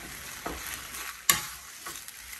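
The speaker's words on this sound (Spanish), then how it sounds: "Ahora vamos a revolver muy bien esto." Cream being stirred into a pasta sauce in a pan, with soft scraping strokes and a faint sizzle, one sharper clack of the spoon against the pan midway.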